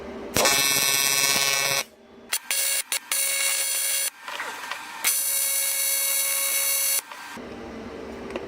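TIG welding a Q45 flange for a VQ35 build produces a loud, bright electrical buzz in several sustained bursts separated by short quiet gaps, close to the torch with no talking.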